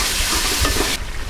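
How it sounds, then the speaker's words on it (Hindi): Red chillies and salt fry in hot oil for white daal mash, a steady close sizzle filling the short moment and dropping away in its final part, with faint stirring under it. "अब हम इसको अच्छे तरीके से मिक्स कर भूनेंगे।"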